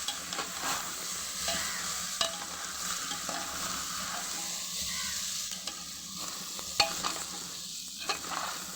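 Rice, lentils and vegetables for khichuri sizzle in a pot while being stirred, a continuous close frying hiss broken by occasional scraping and clinking of a spoon, with no talking.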